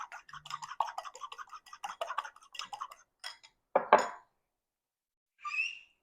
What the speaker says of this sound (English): I'm just going to whisk these up real quick with a fork